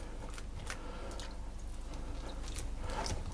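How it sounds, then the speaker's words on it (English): A wet spoon presses down on a sticky panforte mixture of nuts and fruit, making soft squishing, sticky sounds with small clicks of the spoon. The sound is close and steady, with no talk. "press that down until it's level all the way across"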